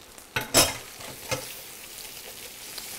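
An egg going into a hot pan for breakfast, a few sharp clattering bursts of contact and stirring up front, then a soft steady sizzle trailing quietly underneath.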